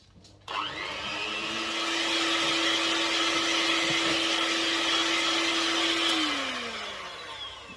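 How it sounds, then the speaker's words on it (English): An electric mixer whisks cheesecake mixture until smooth, a steady loud whirring hum that starts abruptly, runs evenly for several seconds, then winds down in pitch near the end. "whisk that until it's smooth."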